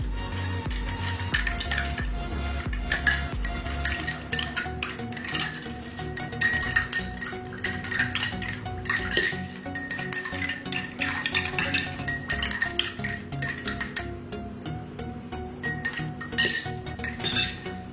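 A spoon stirs detergent and cleaner solutions in four glasses one after another, with rapid, continuous clinking and tinkling of metal against glass throughout, fairly close and busy.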